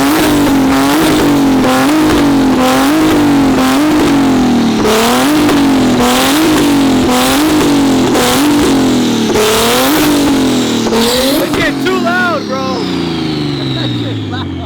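A car pulls up close with loud, repeated engine revs rising and falling in a steady rhythm and a brief tire chirp, then the engine note winds down to idle while people talk over it.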